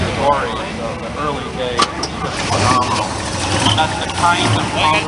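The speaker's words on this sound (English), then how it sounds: "This is a cold-blooded engine." A cold Pontiac GTO V8 idles with a steady, rumbling engine note, close and loud, as people talk over it.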